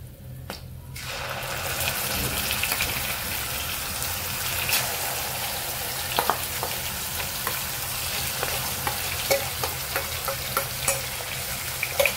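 Finely ground onion paste sautéing in oil in a pan for chole masala, a loud steady sizzle starting after a brief quiet moment, broken by clicking spoon stirs and scrapes.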